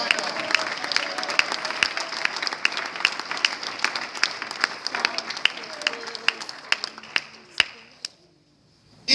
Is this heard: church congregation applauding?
yes